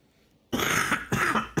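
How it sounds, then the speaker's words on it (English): A person's harsh, close coughing, in two loud bursts of about half a second each, followed by the start of a third, after near silence. "It's that nasty cough."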